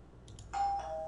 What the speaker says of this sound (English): He rang the bell like we do.